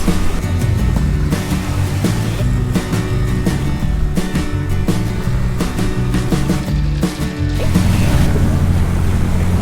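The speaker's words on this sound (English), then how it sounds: "it's the first time we sail in the Caribbean" A sailboat under way on the Caribbean Sea, with steady rushing water and wind noise along the hull and a low drone throughout, loud and continuous with no talking.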